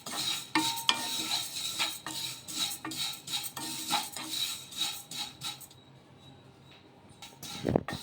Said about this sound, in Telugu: ఇలా ఈ సేమ్యాని 1 నిమిషం పాటు వేయించేసుకుందాము